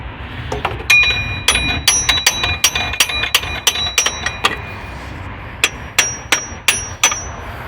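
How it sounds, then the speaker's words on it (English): Repeated sharp metallic hammer blows on a Toyota Sequoia fan pulley, about a dozen in irregular bursts with ringing overtones, close and loud, then a brief pause before a few more strikes. "I gave the fan pulley a couple nice few bonks with a hammer"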